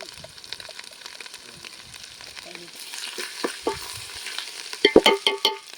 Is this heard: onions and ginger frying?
yes